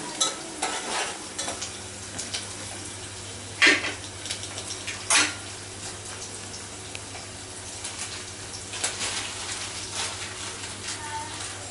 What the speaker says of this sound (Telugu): ఆయిల్ ఉల్లిగడ్డలు అయితే మగ్గుతున్నవి